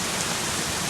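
Intense rain amid strong wind gusts drums steadily and loudly nearby, a thick unbroken wash of falling water without speech.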